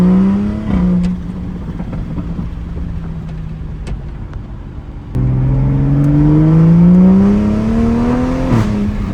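A 2023 Toyota Supra, rebuilt after a wreck, revs loudly from inside the cabin, its engine pitch climbing and dropping as the transmission shifts by itself, with a sudden jump in loudness midway and a sharp rev near the end.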